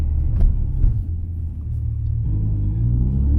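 A manual E60 BMW M5 engine rumbles low and steady while driving, with a few brief revs rising above the constant road drone.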